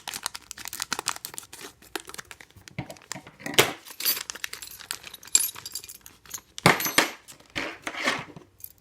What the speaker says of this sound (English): let me open these two so you can see what tools it comes with